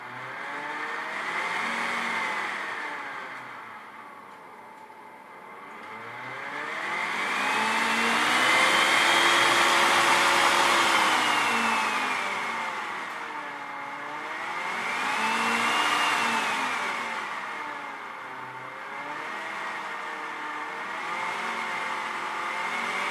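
Dell server cooling fans whir loudly in a living room, a continuous tonal drone that swells and dips in pitch several times as the fan speed ramps up and down, heard alone.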